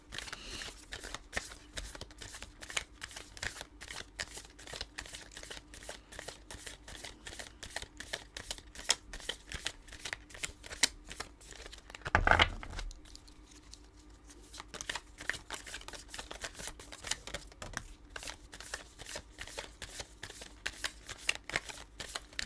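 Tarot cards are shuffled in a steady run of crisp riffling bursts, close and dry, with a short louder clatter midway followed by a brief quiet pause before the shuffling resumes.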